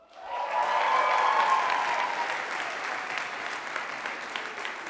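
Applause from an indoor audience welcoming new head coaches, including a women's basketball coach, at a college athletics awards ceremony, swelling quickly and holding steady as a dense, sustained clapping crowd for about five seconds.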